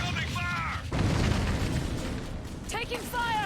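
Enemy gunfire and explosions in the shooter game Clive Barker's Jericho: a loud boom hits about a second in, followed by dense rumbling battle noise, with voices talking over it at the start and end.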